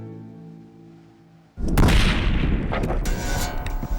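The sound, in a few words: rifle shot fired in the desert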